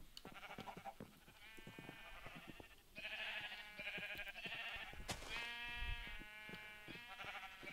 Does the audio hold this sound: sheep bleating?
yes